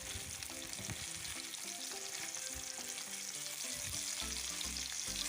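Homemade paneer cubes fry in a pan with a continuous, even sizzle and light stirring, while soft melodic music plays underneath.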